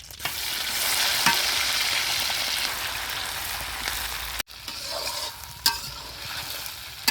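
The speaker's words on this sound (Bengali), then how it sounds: "প্রথমে সয়াবিন তেল প্রথমে হলা চিংড়ি মাছটি ভাজ্যে নেমু" Small river shrimp frying in soybean oil, a steady loud sizzle with stirring, a brief break near the end and a few sharp spatula clinks.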